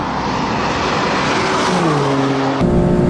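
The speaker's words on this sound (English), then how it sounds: "open it up like this on the straightaway and take it to 150 miles an hour" A 2015 BMW M3/M4 accelerates hard down the straightaway at Road America, its engine roaring loud and close. The roar climbs steadily in pitch, then shifts gear near the end.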